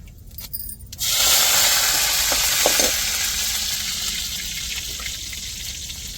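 Curry leaves dropped into hot oil with urad dal in a pan for a Tamil fish stir-fry, an abrupt loud hiss and crackle that starts after a few clinks and settles into steady sizzling.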